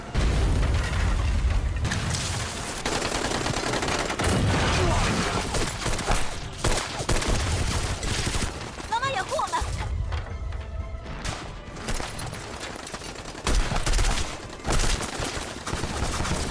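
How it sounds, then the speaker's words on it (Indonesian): Bombs explode amid gunfire in rapid, continuous bursts of cracks and heavy booms, loud and close throughout, with shouting voices mixed in at times. "Mereka mulai meledakkan beberapa bom."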